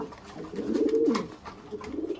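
Racer pigeons coo close by, one soft rolling coo standing out over a quiet background.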